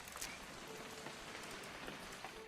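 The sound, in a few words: rain falling in a video game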